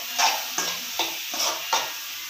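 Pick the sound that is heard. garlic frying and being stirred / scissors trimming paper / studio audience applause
garlic frying and being stirred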